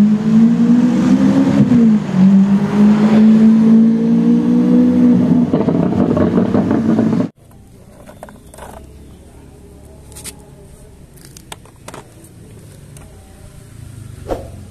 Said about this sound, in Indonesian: Wih, lihat, ada mobil Lamborghini.